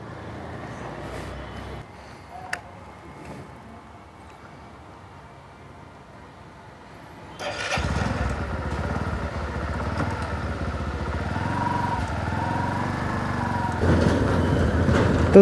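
2023 Bajaj Platina 110 ABS E20 motorcycle is quiet at first apart from a click, then its engine starts and settles into a steady idle with a soft exhaust putter, close by, growing slightly louder near the end.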